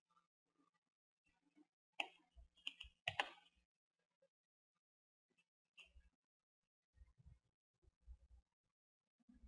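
Keystrokes on a computer keyboard come in short irregular bursts of clicks, close and fairly quiet, with pauses between clusters.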